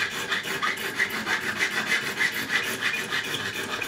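Fret file rasping across the crowned frets of a Fender Standard Stratocaster during a setup, steady back-and-forth strokes about twice a second, close and fairly loud with no talking.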